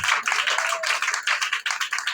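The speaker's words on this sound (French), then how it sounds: "Applaudissez." A church congregation claps steadily and loudly, dense overlapping applause filling the space with no pause.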